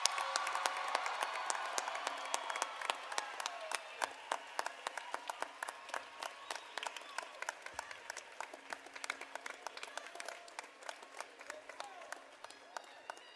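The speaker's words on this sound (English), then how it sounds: "Let's give them another round of applause." Graduation ceremony audience for the class of 2017 applauding, a dense sustained wash of many hands clapping that stays steady and fairly close for the whole stretch, slowly thinning slightly toward the end.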